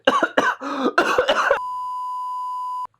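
Several harsh coughs in quick succession from a person, close and loud, followed by a steady electronic beep tone lasting over a second.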